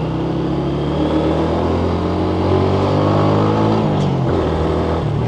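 A nearly 20-year-old Suzuki Shogun SP motorcycle engine runs loud and close, holding a steady droning idle-rev with a brief dip in pitch near the end.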